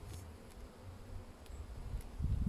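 Honey bees buzz around a beehive in a low, steady hum that stays close and fills the clip, with no voices present.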